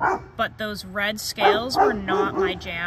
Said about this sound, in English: Also, sorry about the dog.